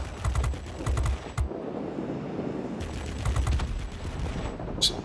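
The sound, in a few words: F2H Banshee aircraft guns firing in the video game World of Warplanes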